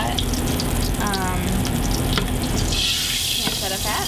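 Onion, carrot and other diced mirepoix vegetables sizzle loudly in hot rendered pancetta fat in a pan, a dense continuous frying hiss close up with a few brief clinks.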